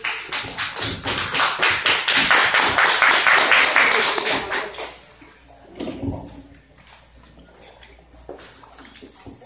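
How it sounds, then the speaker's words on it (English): At a community association general meeting, a room of attendees gives a round of applause, dense clapping that builds and holds for about four seconds before fading, followed by scattered claps and light murmuring. "Give her a nice round of applause."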